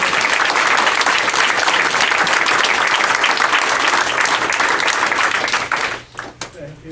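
Sustained, dense applause from an audience at a lecture on psychotherapy, loud and steady for about six seconds before tapering off abruptly into a few scattered claps.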